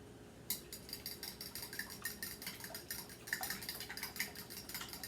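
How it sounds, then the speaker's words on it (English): Batter for a cantaloupe tea loaf whisked briskly in a bowl, a steady run of quick, close clicking and scraping strokes with no talk. "they want you to whisk this all up"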